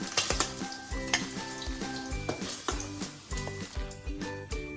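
Paneer pieces frying until golden in a kadai, an oily sizzle with spatula clinks and stirring noise, set under loud rhythmic background music.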